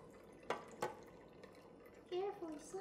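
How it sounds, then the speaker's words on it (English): Cooking liquid from a Cantonese roast duck is poured off in a kitchen, giving a couple of short splashes followed by a brief trickling pour, quiet and close. "I'm just gonna pour this liquid off."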